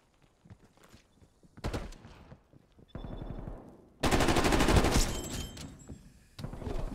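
Rapid automatic fire from an unsuppressed GRAV rifle in a video game, loud close bursts of shots with short pauses between them and the heaviest stretch near the end.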